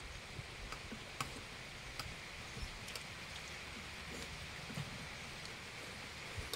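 Steady rain falling on a surface, with scattered close drips and ticks over a constant hiss, moderate in level and continuous throughout, with no talking.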